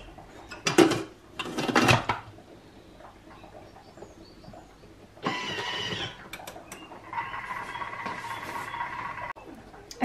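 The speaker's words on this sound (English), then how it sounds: "I'm going to saute these for 3 minutes at" Cumin and nigella seeds sautéing in a pan, with two loud clattering knocks of cookware early on, then a burst of hissing frying and a steadier sizzle with a faint hum.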